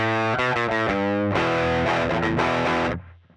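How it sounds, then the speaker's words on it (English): Crunchy electric guitar with Seymour Duncan humbuckers through a Fender amp and Tube Screamer, playing loud, moderately overdriven chords and short riffs. It stands alone and ends on a chord that fades away. "good rock crunch, but nowhere near as dirty as the P90"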